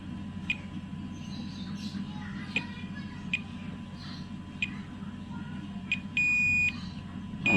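Short electronic beeps from a multimeter in continuity mode, tested across the capacitors of a Polytron PLD32T1500 LED TV; about half a dozen brief tones spaced irregularly, with one longer sustained beep near the end, over a steady low hum.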